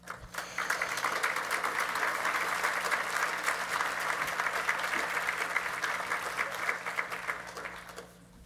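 A large conference audience breaks into sustained, even applause welcoming Governor Asa Hutchinson, loud and continuous for about eight seconds before tapering off.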